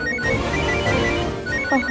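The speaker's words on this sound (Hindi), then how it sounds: "कुछ कह रही हो, फोन उठाओ।" A telephone rings indoors during a family drama scene, a steady electronic ringtone repeating for a couple of seconds at moderate loudness, with no one talking over it.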